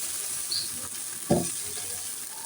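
Pitha made from ground rice batter sizzles and crackles in a heated pan, a steady close hiss with one brief louder splash partway through and no voices.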